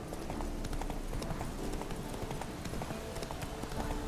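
Roach the horse galloping in The Witcher 3, a rapid continuous drumming of hooves up close, steady and loud over a dense rushing background for the whole stretch.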